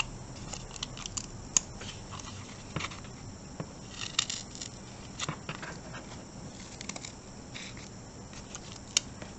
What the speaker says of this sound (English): to make tabs I'm just going to cut off the corners of my piece of cardboard